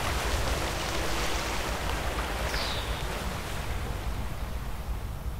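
A water wave spell in World of Warcraft sends a dense, steady wash of rushing water and surf-like noise, with a brief whooshing swirl partway through and no talk.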